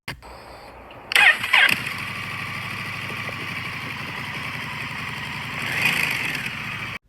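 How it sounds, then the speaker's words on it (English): A Honda Rebel 1100 parallel-twin motorcycle engine cranks and fires with a loud burst, then settles into a steady, even idle that rises slightly near the end. "Like a Honda 1100, it sounds like this."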